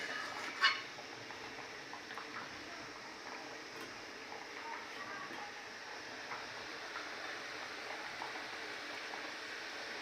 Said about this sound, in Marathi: मग मित्रांनो आता मस्तपैकी भाजीला उकळा आलेला आहे